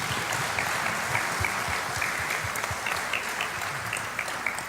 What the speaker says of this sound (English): a round of applause again for all the Bows that competed tonight